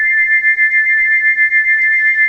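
A steady, piercing steam-whistle tone, remade as Gordon's whistle from Thomas the Tank Engine, holds unbroken and loud for a couple of seconds, close and alone.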